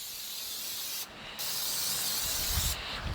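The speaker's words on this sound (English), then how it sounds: "We are lightly spraying the inside" Oil being lightly sprayed across the inside of the cooking compartment of a Masterbuilt 30-inch propane smoker, model MPS230: a steady close aerosol hiss that dips briefly twice, with no talking.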